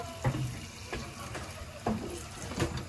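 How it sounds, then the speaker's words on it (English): Tap water runs into a cooking pot for chicken and noodles, a soft continuous splashing stream with a few brief louder gurgles and clinks, heard alone without talk. "We wanna add a lot of water"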